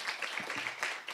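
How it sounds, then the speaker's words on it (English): Applause for three speakers at a climate and health panel event: a short burst of steady clapping from a seated audience, moderately quiet and heard alone. "A round of applause for our 3 speakers on this panel"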